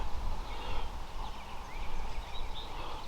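A wild spring turkey gobbles far off across an open field at dawn, the faint rolling calls rising and falling over steady outdoor background noise.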